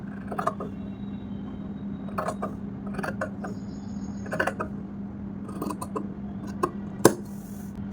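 Scissors snip through dress fabric in a series of short, crisp cuts at irregular intervals, close and fairly quiet over a steady low background hum, with no talking.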